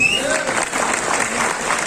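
A seminar audience in Panipat claps together in a brief burst of applause, a dense, even patter of many hands filling the room for about two seconds.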